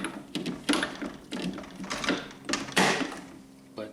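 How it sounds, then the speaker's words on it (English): A Tekton socket being pushed onto a straight, non-wobble extension: a series of close, small metallic clicks and scrapes in a quick irregular rhythm, quiet and with no talking. "So you put the socket on there, and it's just going straight on."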